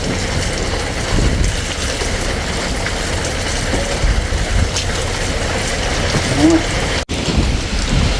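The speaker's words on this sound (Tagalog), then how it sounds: "uwi na tayo at nalakas ang ulan" Heavy rain with thunder pours steadily in a dense, loud hiss, with low rumbling underneath and a brief dropout near the end, in the Philippine rainy season.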